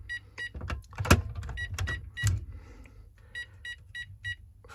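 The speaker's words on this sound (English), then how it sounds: "3 beeps." Short, sharp electronic beeps from a Texecom Veritas alarm keypad come in small clusters, mixed with some clunky handling noises early on, then repeat cleanly in evenly spaced groups.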